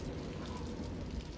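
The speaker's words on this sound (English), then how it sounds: "He muffled the sound of the rain" Steady rain in the game Mahoyo: Witch on the Holy Night, a dense, even hiss of falling drops heard close and alone, with no voices over it, on a cold November night.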